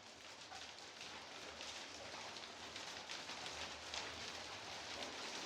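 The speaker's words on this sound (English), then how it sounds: "And it started raining." Steady outdoor rain falling on surfaces during a motorcycle helmet test ride, a constant soft hiss of drops with no voices, fairly faint throughout.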